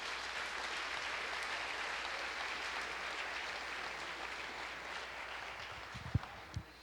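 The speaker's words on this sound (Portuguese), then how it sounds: "Você pode aplaudir ao Senhor" Faint, distant congregation applause during a church worship service, a soft steady patter of many hands that stays even, with a couple of louder thumps near the end.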